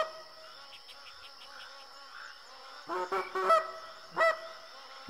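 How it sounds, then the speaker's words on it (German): Flock of geese honking in theHunter Classic hunting game, several clustered honks bursting out around the middle and near the end over a steady buzz of insects, moderately close. "Also zwei Gänseschwärme jetzt hier bei mir."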